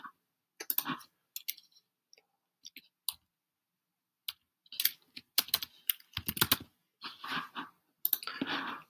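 Keystrokes on a computer keyboard while entering a short description into accounting software, arriving in scattered bursts with pauses, then denser, faster runs of typing toward the end; close and fairly quiet, with no one talking.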